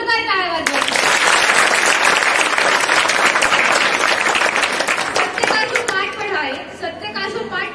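An audience at a college Teacher's Day program breaks into loud, dense applause that lasts several seconds, then tapers off as a speaker's voice returns over the final scattered claps.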